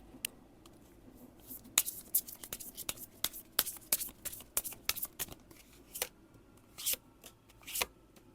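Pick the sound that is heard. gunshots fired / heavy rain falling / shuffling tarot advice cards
shuffling tarot advice cards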